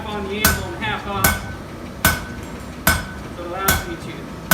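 Steel struck on an anvil with half-face hammer blows, the hammer landing half on and half off the face to thin a middle section while forging a leaf. Five sharp, ringing strikes fall at a steady, unhurried pace, close and loud over faint background noise.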